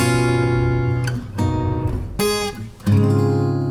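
A guitar plays a dreamy Lydian chord phrase: several ringing chords struck one after another, each left to sustain and fade before the next strum, with a bright final chord.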